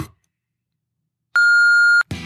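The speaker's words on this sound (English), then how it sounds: "Please leave a message after the beep." A single voicemail beep: one steady, loud electronic tone lasting under a second, sounding alone after a stretch of silence and cut off abruptly, followed by a brief burst of noise.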